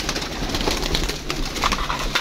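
Pigeons coo softly over a steady outdoor background as a flock feeds on scattered grain near a net trap, their calls overlapping continuously throughout.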